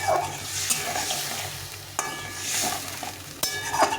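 Water splashed into hot oil in a pan of vegetables gives a steady close sizzle with stirring scrapes, a few sharp clinks of a utensil against the pan punctuating the hiss.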